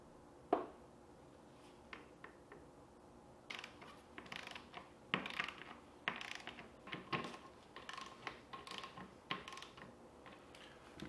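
Torque wrench clicks and ratcheting while beadlock wheel bolts on a Polaris RZR UTV are tightened in a star pattern; scattered short mechanical clicks and creaks, fairly quiet and irregular, with no talking.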